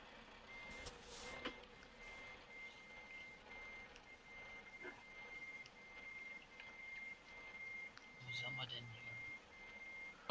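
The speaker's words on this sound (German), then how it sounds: "Hast du dir das Gepiepe angelassen?" Steady reversing beeps from a truck in Euro Truck Simulator 2 multiplayer, a regular high tone repeating through the whole stretch under road noise, with people talking over it.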